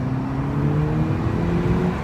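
A Volkswagen GTI, newly rebuilt with a fresh cylinder head and new intake valves, drives along with a loud, steady engine hum that rises slightly in pitch as it runs.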